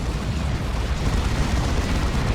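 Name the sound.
orbital bombardment explosions in video game Dawn of War 2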